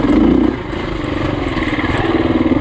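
An enduro motorcycle rides a slippery trail, its mid-pitched engine droning steadily up close with a fast pulsing throb and a slight dip in revs early on.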